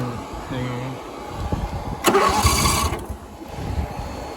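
A small engine on a machine with a freshly repaired throttle is cranked and catches, a burst of rough starting noise midway that settles into a running idle, close by and fairly loud.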